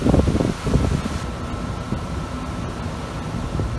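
Steady broadband wind noise buffets the microphone at a Boracay beach resort, with gusty low rumble strongest at the start, then settling into a constant rushing hiss.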